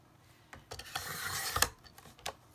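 A large paper trimmer slices through card to make a roughly 3x5 tag: a few brief rasping, rubbing cuts close by, the longest near the middle, with no talking.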